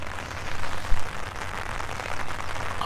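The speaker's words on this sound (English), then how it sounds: "In fact, it's starting to rain a bit heavier now." Rain falls steadily on an OEX Expedition tarp overhead, a soft continuous patter and hiss with a few louder drops striking close by near the end.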